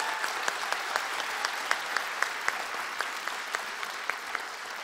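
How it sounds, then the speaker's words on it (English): At a Women's History Month celebration, an audience gives a fresh round of applause for an honoree, a steady, even patter of many hands with a few sharp, close claps standing out, with no talking. "Please give her another round of applause."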